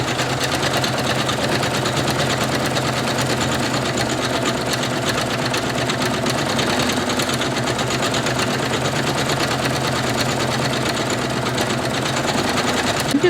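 An embroidery machine stitching a small Sailor Moon patch, a steady fast mechanical chatter that runs without pause, close and fairly loud, with no talk.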